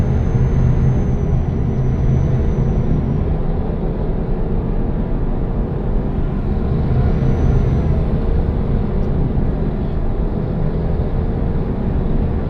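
Heavy truck engine and road roar while overtaking in Euro Truck Simulator 2, a steady loud broadband drone with a faint high tone drifting above it, continuous throughout.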